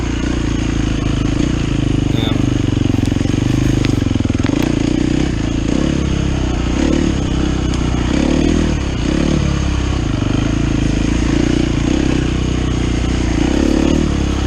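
A 2015 KTM 250 XCW two-stroke dirt bike engine runs loud and close throughout, a steady low drone with small surges and some clatter from the ride.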